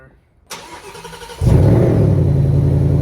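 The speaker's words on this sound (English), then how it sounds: "We'll start the car." A Ford Mustang RTR Spec 5 is push-button started: a short starter whir, then the engine catches with a loud low-pitched roar and settles into a heavy, close rumbling idle.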